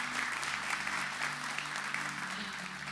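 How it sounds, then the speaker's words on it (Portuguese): Church congregation clapping in praise during a sermon, a continuous full-room applause at steady moderate loudness, with a low sustained hum of instruments underneath and no speech on top. "Pode aplaudir o Senhor."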